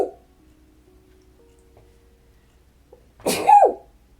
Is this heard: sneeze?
yes